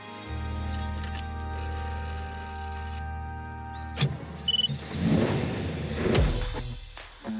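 A classic Chevrolet Corvette C1 idles with a steady low hum, then its engine catches and revs in uneven surges as it pulls away, with a few sharp knocks and clicks, fairly close and loud.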